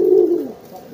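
A domestic pigeon, a young bird not yet in breeding condition, gives one low, close coo that fades out after about half a second with nothing else heard.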